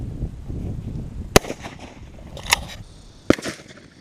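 A shotgun firing buckshot outdoors at a plywood target 100 yards away: three sharp, loud cracks spaced about a second apart, each dying off quickly over a low background rumble.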